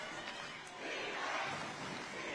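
A basketball crowd roaring during a high school game in Kalani, a loud sustained wash of cheering and yelling that builds slightly midway.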